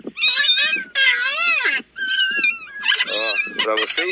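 Three kittens sheltered in an old stump inside a stable meow loudly and repeatedly up close, their high, wavering cries overlapping in quick succession.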